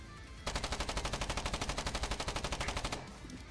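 Automatic weapon fire in the war game Foxhole: one rapid, evenly spaced burst of about twenty-five loud shots lasting some two and a half seconds, close and alone, then a quiet tail.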